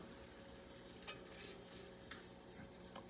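Shrimp and scallop skewers sizzle steadily on a hot pan in the oven, a faint continuous crackle with a few soft clinks and scrapes as they are turned.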